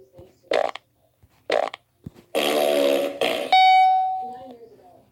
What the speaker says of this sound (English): What the heck is that fart?